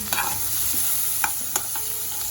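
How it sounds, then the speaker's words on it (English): Diced onions and capsicum fry in a little oil in a kadai, giving a steady close sizzle with a few light clicks and scrapes of stirring and no voices. "fry the diced onions and capsicum for about just 5 minutes"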